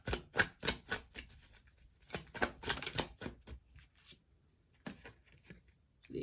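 Tarot cards are shuffled and drawn from a deck close up, a quick run of crisp papery flicks and snaps, then sparser slides and taps as cards come out, all faint and with no talking.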